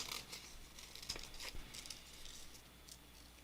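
Scissors snipping through paper to cut out a small picture, a few soft close crisp cuts at a quiet level, with no talking.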